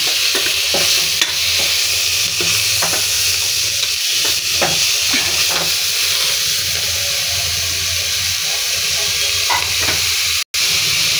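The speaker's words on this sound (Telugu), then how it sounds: "కొంచెం కలర్ వచ్చిన తర్వాత మనం మటన్ వేసేసుకోవాలి." Mutton pieces for a gongura curry fry loudly in a hot pan with browned aromatics, a steady close sizzle broken by repeated scraping stirs and clatters, with no talking.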